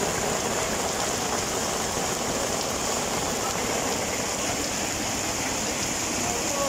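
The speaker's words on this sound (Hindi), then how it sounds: "भारी बारिश हो रही है" Heavy rain pours down in Ajmer alongside rushing, flowing water, a dense, steady roar that runs without a break. No voices are heard.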